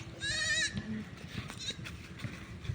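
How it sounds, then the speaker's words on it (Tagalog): A single goat bleats once, a short wavering cry near the microphone, followed by quieter rustling and background noise. "May tawag ka ng kambing."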